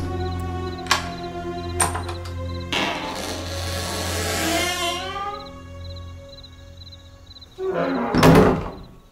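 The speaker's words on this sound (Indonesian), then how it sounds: "Oma pun membukakan pintu dan aku langsung masuk" A house door opening on a radio horror drama, heavy thunks and a long creaking swing, with a low ambient drone and a louder rumbling bang near the end.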